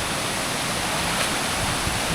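A waterfall in Wayanad roars with a dense, unbroken rush of water, loud and close, steady throughout with no talk.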